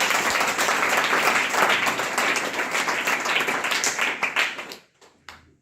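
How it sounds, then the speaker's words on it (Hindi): A church congregation claps together during a Hindi sermon, dense sustained applause that fills most of the moment before dropping away abruptly, leaving a few scattered claps near the end. "ताली बजाएं प्रभु के महिमा के लिए।"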